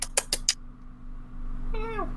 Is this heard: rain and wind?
no